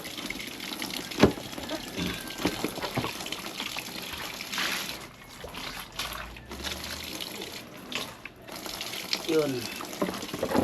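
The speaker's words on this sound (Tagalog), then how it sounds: "diyan lang po ibuhos yung tubig guys" Water poured out onto a sloping cement floor near a drain during washing chores, a continuous splashing and trickling flow that swells and fades, with a person talking over it at times.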